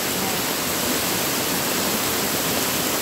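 Strong floodwater rushes along a flooded road after an hour of heavy rain, producing a loud, steady roar of turbulent water that stays close and unbroken.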